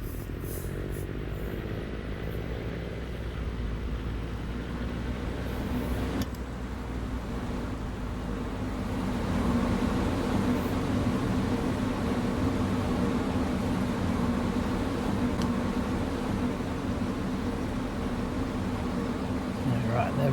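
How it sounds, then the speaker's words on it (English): A loud, steady truck engine drone in Farming Simulator 19, with deep rumble and road noise, growing slightly louder partway through, continuous and close. "Can't believe how loud this truck is."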